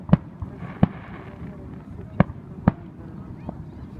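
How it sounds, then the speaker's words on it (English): Independence Day fireworks burst in a few sharp, loud booms spaced irregularly over a few seconds, with fainter pops between them against a low background rumble. "These fireworks, I think, are a symbol of hope."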